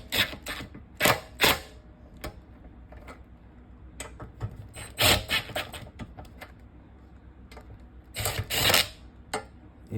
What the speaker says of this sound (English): I've got them on my impact wrench, but I am not gonna send them all the way down. I'm gonna love tap this